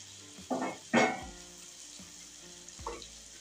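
Fried tindora and potatoes dropped into hot oil with ginger and green chili, two loud splashing sizzles in quick succession and a third later, over a faint steady simmer.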